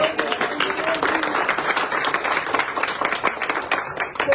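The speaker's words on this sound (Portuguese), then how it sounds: "Aplauda o Senhor." A church congregation claps together during a worship service, dense continuous applause with a few whoops, fairly close and loud.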